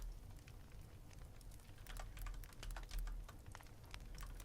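Quiet typing on a computer keyboard, a close, irregular patter of soft key clicks continuing throughout at low volume, with no one speaking.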